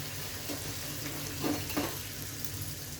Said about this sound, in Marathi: दुसरा भटुरा घालते आता. हाही फ्राय करून घेऊया.